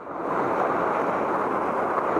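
Surf breaking against the shore where a fish is being landed from the water's edge, a steady loud wash of waves with wind noise across the microphone, no voices.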